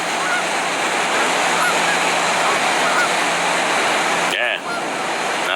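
Niagara Falls water pours over the falls, a loud, steady, broadband roar heard close by and continuous throughout, with a brief disturbance near the end.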